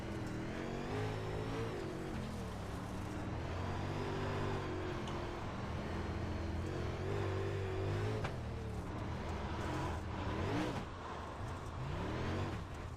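A dirt race car in iRacing revs and surges as the throttle is stabbed on and off, the engine note climbing and dropping repeatedly with occasional tire noise, loud and close throughout.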